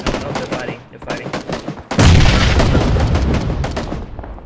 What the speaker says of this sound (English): Oh, they're shooting from the southwest